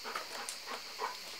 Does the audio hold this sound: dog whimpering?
yes